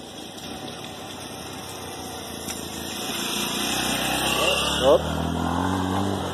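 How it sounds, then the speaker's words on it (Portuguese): A motorcycle approaches along a rough, poorly kept street, its engine hum swelling gradually from faint to nearer and louder, with someone talking over it. "Lá tá vindo uma moto."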